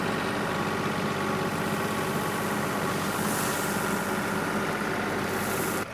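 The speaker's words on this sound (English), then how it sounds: "just running here at an idle? Just the hydraulics on the loader." Tractor idling with its front loader hydraulics running, a steady mid-to-low engine hum with a constant whine layered on top, close and unbroken.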